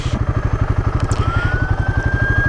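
A Royal Enfield Guerrilla 450, a small-engined motorcycle, is ridden with its engine pulling well, producing a loud, close, steady pulsing thrum with rapid even beats and no talk.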